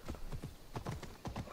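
Horse hooves clip-clop in Assassin's Creed Odyssey as a mount climbs rough mountain terrain, close, steady, uneven beats with no talking.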